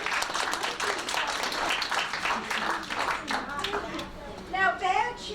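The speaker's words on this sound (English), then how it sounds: "Another big round of applause for Zoe." An audience at a magician's show claps for a young girl named Zoe, brisk continuous applause with a voice and other speech rising near the end.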